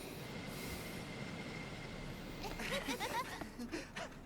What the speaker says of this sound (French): Le train va entrer en gare.